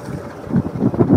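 Strong wind buffets a small fishing boat out at sea, heard as a loud, gusty low roar rising and falling in quick surges against the microphone, growing stronger toward the end.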